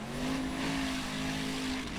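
The Formula Offroad car Guttin Reborn revs at an Icelandic off-road competition in Akureyri, a sustained engine whine heard faint and distant.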